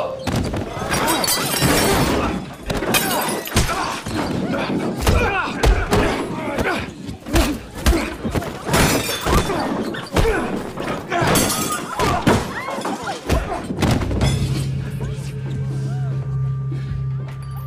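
Fistfight scene from the Reacher series: a dense run of punches, thuds and heavy impacts over busy background sound and music, loud and continuous, ending in a low sustained tone.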